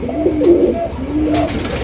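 Black gold Archangel pigeons coo nearby in soft, throaty rolling calls, two short bouts close together with a brief pause between.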